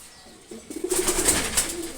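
Male pigeons of a fine fancy breed, kept at rest, coo in low, soft, repeated throaty rolls that build after a brief quiet start, with a few thin higher notes above them.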